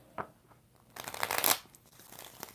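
Tarot cards shuffled by hand: a small tap, then a dense, close riffling burst that peaks and fades, with light handling noise after.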